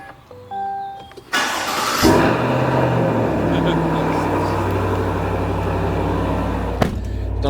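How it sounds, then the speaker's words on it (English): A 2025 Fox Factory truck engine cranks and fires up, settling into a loud, steady rumbling idle from the exhaust, with a brief blip near the end; talk is heard before it starts. "I'm going to start it with the door open just so you can hear the exhaust"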